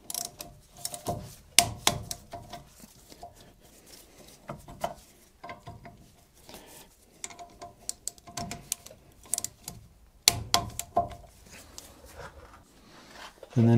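A ratchet tightens the brake caliper bolts on a 2007 Ford Ranger 2.5 during a front brake service, with close, sharp clicking bursts in irregular runs and short pauses, as a voice talks at times.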